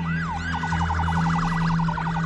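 An ambulance siren wails continuously and fairly close, starting with slow sweeping rises and falls and then switching to a fast warbling yelp, heard over a steady engine hum.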